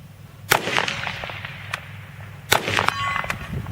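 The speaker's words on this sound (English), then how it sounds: "I'm just going to take those shots now." Rifle shots strike painted steel targets outdoors. Two sharp cracks arrive a couple of seconds apart, each followed by a ringing clang, over a steady background hum.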